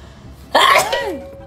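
A single sharp sneeze bursts out close by, followed by a voice trailing off with a falling tone.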